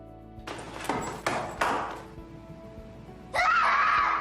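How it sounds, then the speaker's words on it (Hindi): A woman screams in frustration in a dramatic scene, with several short loud vocal bursts followed by a sustained high-pitched wail near the end, over faint background hum. "वो फ्रस्ट्रेट होकर चीखने लगती है"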